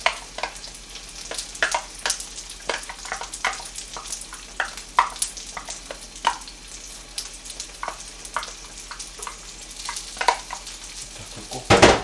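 Black bean sauce mixture for jajang rice being stir-fried in oil in a home kitchen: a soft, low sizzle broken by frequent sharp scrapes and clicks of a utensil against the pan.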